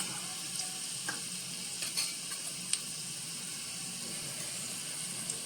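Chillies, mustard seeds and cumin sizzle in hot oil, a steady, fairly quiet frying hiss with a few faint pops and light clicks of a utensil; no one speaks.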